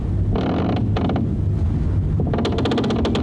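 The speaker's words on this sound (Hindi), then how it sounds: "ये खिड़कियां खटखटाने लगी है।" Loud clattering bursts of rattling window frames, shaking in irregular fits with a creaking undertone and gusty wind noise between them.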